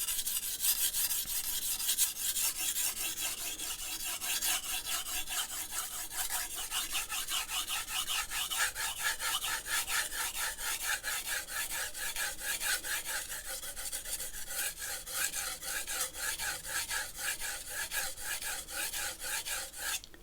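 A knife blade is drawn over sandpaper in steady back-and-forth strokes, a dry rasping scrape repeating rhythmically for the whole stretch, close and even, with nothing else heard.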